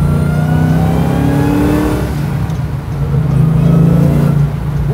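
A supercharged Hellcat V8 in a 1969 Plymouth Road Runner revs loudly and steadily up close, with a deep throaty roar that dips briefly then swells again.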